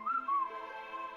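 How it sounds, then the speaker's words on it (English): Tuneful whistled melody from the Final Fantasy VI video game, a few sliding notes followed by a sustained tone, fairly quiet with no talking over it. "Stop whistling."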